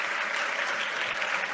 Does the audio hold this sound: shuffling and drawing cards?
no